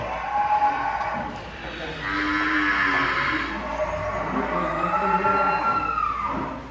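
Giant cattle moo in long, low drawn-out calls, several in succession, close by in a farm pen amid a murmur of background voices.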